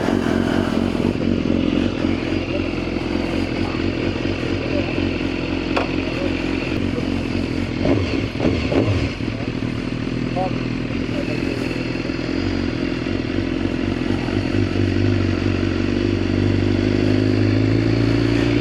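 A 1000cc hyperbike motorcycle ridden along, its engine droning steadily and close throughout with some rattling and wind rush, no talking.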